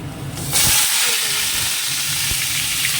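Crabs dropped into hot oil burst into a loud, close hiss about half a second in. The sizzle then carries on steadily, with a few faint knocks underneath.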